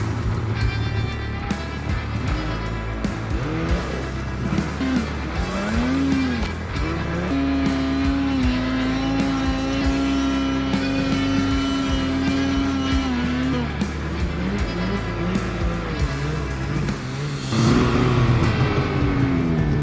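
A Polaris snowmobile warming up in the snow, its engine running steadily and revving, with a sustained engine tone whose pitch rises and falls. Loud and close throughout, with a louder rev near the end.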